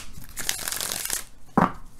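A deck of tarot cards is shuffled by hand, giving quick papery riffles and rustles over about two seconds, ending in a sharper snap of cards.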